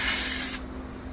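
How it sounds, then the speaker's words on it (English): Compressed air blows hair and dirt off horse clippers in a loud, close hiss that cuts off abruptly partway through. "So we use the air to blow all the hair and dirt off."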